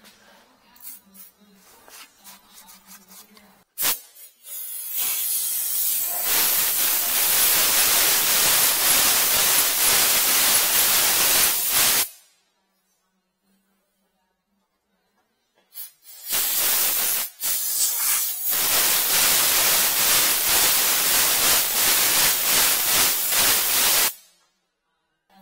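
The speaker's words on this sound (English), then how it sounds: "and blow it out with compressed air." Compressed air blasts through the rear end of a Ford Super Duty in two long, loud, steady hissing bursts, each lasting several seconds, close up and with no talking.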